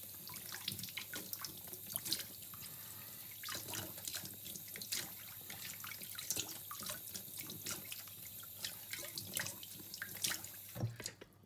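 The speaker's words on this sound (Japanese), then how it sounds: "まあとりあえずさっと洗いましょう" Butterbur buds (fukinoto) are rinsed under a running kitchen tap, a steady close stream of splashing water with scattered drips and clatter throughout, no voices.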